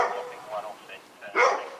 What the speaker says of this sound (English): you have to wait over here because the dog is vicious